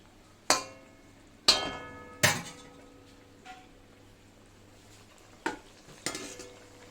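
Pieces of fish and fried eggplant go into a pan for a fish chorchori and get stirred, making a handful of sharp, separate clanks and scrapes of a utensil against the pan over a quiet background, with no talking.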